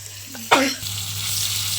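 Fish frying in hot oil crackles in a brief burst after a short clatter, then settles into a steady sizzle. A low hum sits beneath it throughout.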